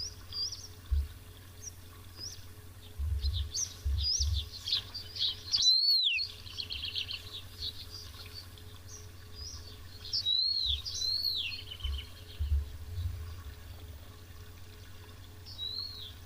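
Birds bathe at a wild waterhole, giving soft intermittent splashing and flicking water under a steady outdoor ambience, with repeated high chirps and bird calls scattered throughout.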